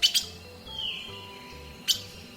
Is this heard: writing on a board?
no